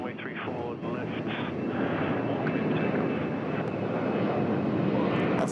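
Jet airliner engine roar on runway 34 left at Sydney Airport, a loud, steady broadband rumble throughout, with a voice talking over it.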